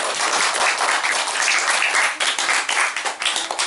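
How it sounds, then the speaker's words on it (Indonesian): An audience at an Indonesian religious school gathering claps loudly and steadily throughout, a dense, continuous applause filling the room without any talk over it. "Tepuk tangan untuk Anda semuanya"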